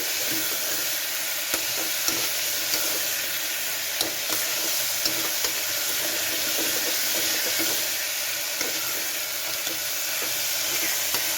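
Vegetables and spices for a vegetarian white kurma sautéing in a pan, a steady close sizzle with occasional soft stirring clicks, no voices over it.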